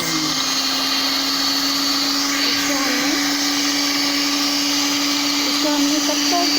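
Electric beater whipping a liquid mango ice cream mixture in a home kitchen, a steady high motor whine holding one pitch throughout, with faint scraping of the beaters.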